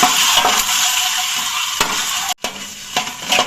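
Egg frying in oil in a pan for a gravy, a close, bright sizzle broken by spatula scrapes and stirring knocks, with a brief dropout midway.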